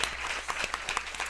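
Short burst of audience applause at the close of a French-language podcast recording, scattered claps with a few sharper hits over a room murmur, brief and fairly close.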